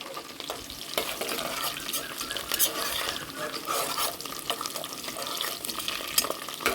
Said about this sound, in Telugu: జీడిపప్పులు కొద్దిగా ఇంకా సేపు వేయించుకున్నాము